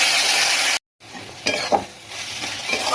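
Spice masala for an egg and pointed gourd curry being stir-fried in a pan, a loud steady sizzle broken by a brief silence, then softer frying with spatula scrapes and clinks, no voices.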